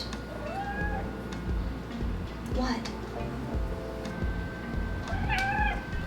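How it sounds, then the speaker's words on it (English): A domestic cat meows a few times, with a sweeping, upward-bending pitch, close by over steady room noise and intermittent speech. "My cat's just sitting there watching me. I don't know what she wants"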